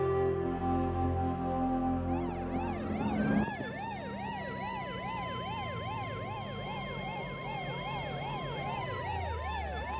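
An ambulance siren wails in a fast, repeating up-and-down yelp after a low horn-like tone at the start, loud and steady for several seconds with no voices over it.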